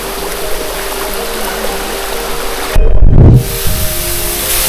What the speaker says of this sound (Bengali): আর ঝিরির এই পাশটাই হচ্ছে ঝর্ণা।